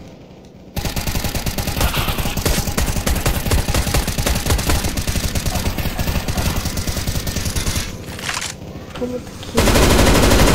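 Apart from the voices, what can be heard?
gunfire in the video game CS:GO zombie mod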